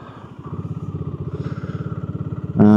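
A 2023 BSA Gold Star motorcycle runs with a steady, throbbing single-cylinder beat close by, its pulses even and rhythmic, ending in a sudden louder burst of revving near the end.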